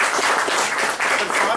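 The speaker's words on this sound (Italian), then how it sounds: "Ci metto un applauso." Audience applause at an Italian book presentation, a dense steady patter of clapping that fills the short stretch at an even level with no clear pauses.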